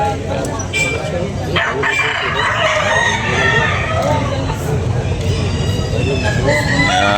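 Roosters crow repeatedly amid the busy clamour of a chicken market in Carbon, Cebu, the calls loud and overlapping with clucking fowl and ambient crowd noise throughout.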